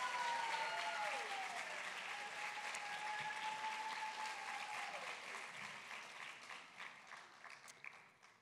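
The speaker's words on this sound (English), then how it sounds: "A round of applause for all the families and parents of our contestants tonight." An audience at the Miss Massachusetts Teen pageant applauds, a steady wash of clapping with a brief cheer early on, faint overall and gradually thinning toward the end.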